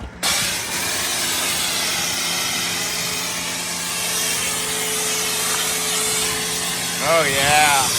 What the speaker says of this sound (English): We're gonna take it over here and power wash it